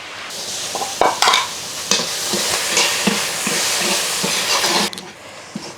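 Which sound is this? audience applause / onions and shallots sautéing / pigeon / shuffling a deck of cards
onions and shallots sautéing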